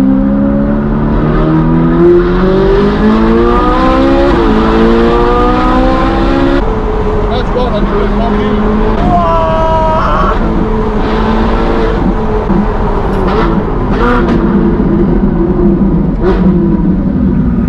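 A Ferrari accelerates on the road, its engine loud and close with rising and falling revs and gear changes over nearly eighteen seconds, while people inside talk over it.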